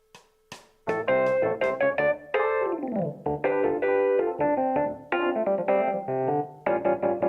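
A keyboard plays a song: after a couple of isolated opening notes, punchy rhythmic chords and a sliding bass run follow in a loud, close, bouncy pattern with brief gaps between phrases.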